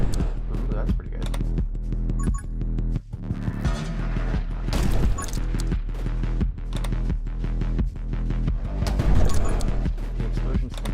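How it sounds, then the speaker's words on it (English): Grenade launcher explosions in a video game burst out repeatedly over a steady musical game soundtrack, with sharp, loud blasts clustered in the middle and again near the end. "The explosions can hurt me, huh?"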